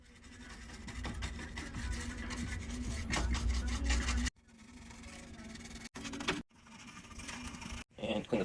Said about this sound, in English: using my detailing tool to get all the dust off of these things